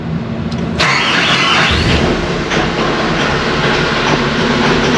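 A heavy snow-plowing loader engine starts and runs loudly with a rough rumble, while a high-pitched squeal rises over it and lingers.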